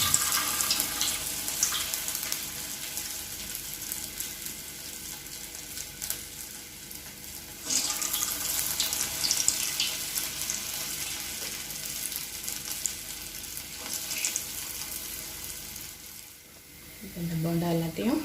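Balls of urad dal and coconut batter deep-fry in hot oil as bondas over a medium flame, with a continuous bubbling hiss that surges partway through and then fades near the end.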